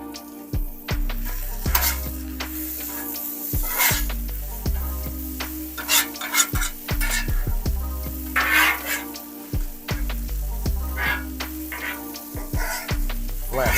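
Green peppers and onions fry on a Blackstone griddle with a steady sizzle, punctuated by sharp metallic scrapes and taps of a spatula stirring them, close up.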